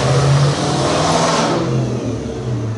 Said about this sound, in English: somebody has to go by and gun their engine